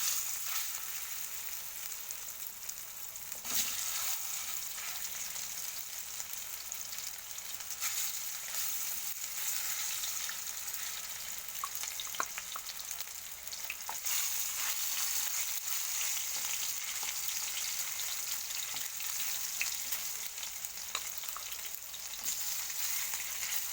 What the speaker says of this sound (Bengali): দেখো মাছ ভাজাটা কিছুক্ষণের জন্য ফুটে থাকুক।